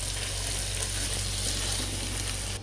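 Lamb and potatoes frying in a pan give a dense, even sizzle up close, a steady hiss that barely varies and cuts off abruptly at the end.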